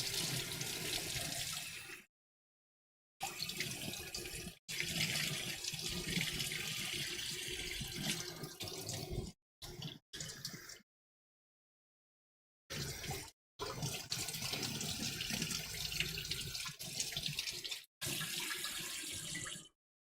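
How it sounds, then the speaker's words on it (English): Water runs from a kitchen tap as a pan is rinsed while risotto is cooked, a steady close splashing rush broken by several abrupt silent gaps. "I'm gonna give this a rinse."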